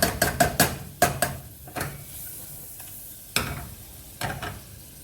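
Butter goes into a hot pan while a sauce is being made, and a utensil scrapes and clatters against the pan in quick, uneven strokes over a soft sizzle.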